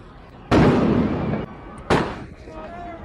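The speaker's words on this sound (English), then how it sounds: "Gunfire." Gunfire during street fighting in Los Angeles: two loud, sharp bangs about a second and a half apart, each with a long ringing decay, set against a low background murmur.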